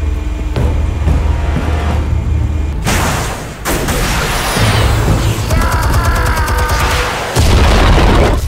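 Explosives detonate in Batman: The Telltale Series, heavy booms and rumbling blasts with crashing debris filling several seconds, loud and close, with no talking over them.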